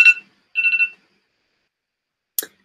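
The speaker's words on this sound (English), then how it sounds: "I have lots of alarms going off here" Electronic alarm beeps sound in short, loud bursts: a tone at the start, a warbling double beep shortly after, then a brief bright chirp near the end, with silence between.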